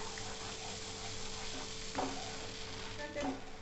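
Thickened milk for rabri is stirred continuously in a pan, a soft spoon scrape riding over a low bubbling sizzle, with two slightly louder strokes toward the end.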